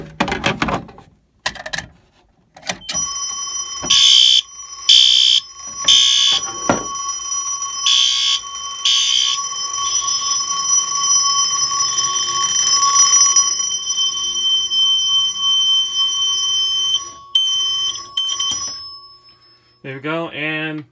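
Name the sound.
fire alarm from activated pull station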